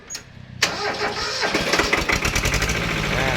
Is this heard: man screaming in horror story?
no